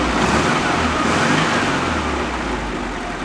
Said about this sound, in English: Although it doesn't sound bad when you rev it up.